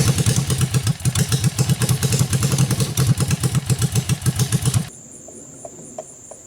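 A Suzuki GS500 engine running in a home-built mini buggy, loud and close with a rapid, steady pulsing beat, then abruptly cut off, leaving faint ticking and a high background whine.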